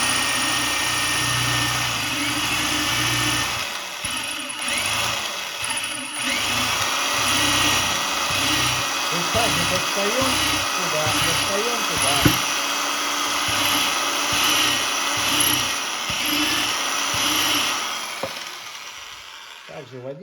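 A power drill fitted with a concrete bit bores into brick, giving a continuous loud grinding whine with rhythmic pulsing as the bit bites, while someone talks briefly over it and the tool winds down at the end.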